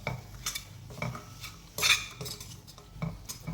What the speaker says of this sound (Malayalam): ഇനി എല്ലാം കൂടി ഒന്ന് ഇളക്കി യോജിപ്പിച്ചെടുത്താൽ മതി